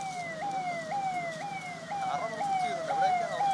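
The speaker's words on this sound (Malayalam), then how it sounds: "സൈറൺ മുഴങ്ങി" An emergency siren sounds during a mock drill at Vizhinjam, a loud wailing tone sweeping down and jumping back up in repeated cycles, near and steady over faint background noise, with no one speaking.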